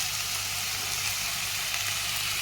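Tomatoes frying with onions in a pan for an Afghani omelette of eggs and potatoes, a steady, even sizzle holding at constant level throughout with no talk over it.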